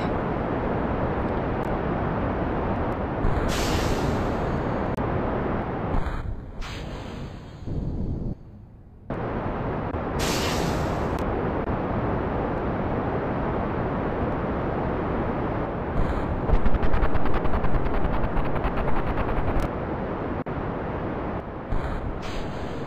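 Rocket engines firing through a launch in Kerbal Space Program, a steady dense roar held for a long stretch, dropping out briefly with short gaps and changes in tone before resuming, with no talk over it.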